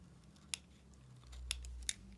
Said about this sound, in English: Slowly just keep cutting it from both sides